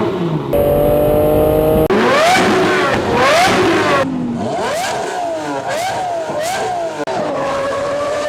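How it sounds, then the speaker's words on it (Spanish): A Lamborghini Murciélago SV's V12 screams through repeated high revs and upshifts, loud and close, each pull rising sharply then dropping before climbing again. "pocos autos tienen una presencia tan brutal como el Murciélago SV, porque este V12 no solo hacía ruido"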